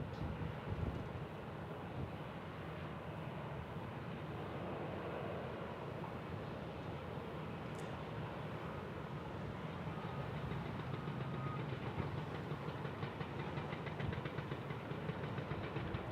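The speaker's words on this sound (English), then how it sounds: "Good old Qantas right there." A Qantas airliner at Kansas City airport puts out a broad, constant engine roar, fairly loud and even throughout, with no voices over it.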